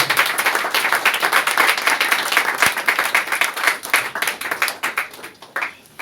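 A church congregation breaks into loud, sustained applause, dense rapid clapping from many hands filling the room without a break, with no speech over it.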